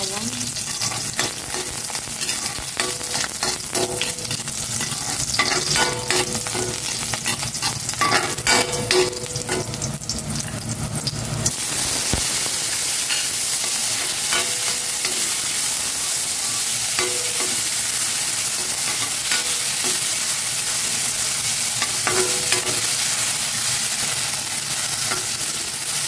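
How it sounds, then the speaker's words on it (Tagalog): Garlic sautéing in cooking oil gives a loud, dense crackling sizzle close by, with bursts of stirring early on that settle into a steadier, brighter hiss for the rest. "Igisa ko na sa bawang."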